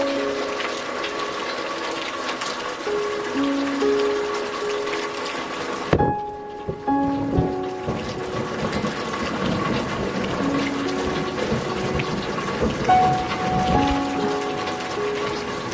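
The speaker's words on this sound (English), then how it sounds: "So with the thunder and lightning that is taking place" Heavy rain pours steadily throughout, with a loud sharp crack near the middle followed by rumbling thunder, then continued downpour.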